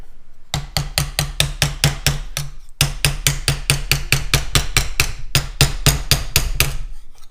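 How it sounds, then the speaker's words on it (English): Plastic hammer tapping a metal expansion chamber pipe for a two-stroke RS-100, in steady fast rhythmic series of sharp knocks, close and loud, with one brief pause midway and no talk. "once you start going with the plastic hammer, you can just feed it up,"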